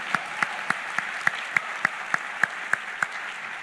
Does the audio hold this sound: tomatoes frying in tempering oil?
no